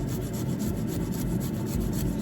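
Fresh ginger rasps against a grater in quick repeated strokes, a close, steady scraping rhythm with no talking.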